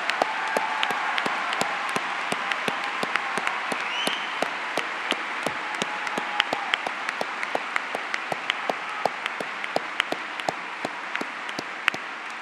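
An arena audience at a 2019 high school graduation ceremony gives sustained applause for the graduating seniors: dense, even clapping that holds steady throughout with no break, with no speech over it.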